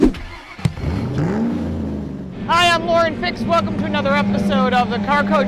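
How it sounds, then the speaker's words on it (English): Race cars rev and roar at a racetrack, sounding as a running engine drone behind someone talking close up in the foreground. "You can hear the race cars going on behind me."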